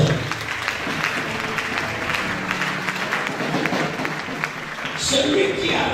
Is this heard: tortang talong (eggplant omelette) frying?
no